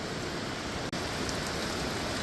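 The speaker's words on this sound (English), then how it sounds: "Beautiful bit of rain here in West Australia." Heavy rain pouring down in Western Australia, a steady dense hiss of falling water with a brief dropout partway through, no voices.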